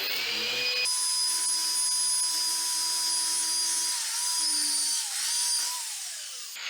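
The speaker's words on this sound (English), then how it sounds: "so we actually drilled 4 screws" Close, loud whine of a drill driving Tapcon concrete screws to anchor a toilet flange over tile, one long sustained run with slight dips in speed before spinning down, no talking.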